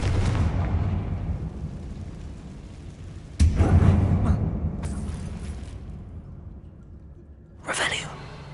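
Confringo fire spell explosion in the Hogwarts Legacy video game, booming blasts with rumbling tails, one at the start, a louder one midway and a shorter burst near the end, heard without talk.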